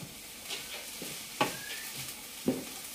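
Onion gets stirred in a pan for homemade mac and cheese, soft scraping strokes with two sharper clicks of the utensil against the pan over a faint steady sizzle.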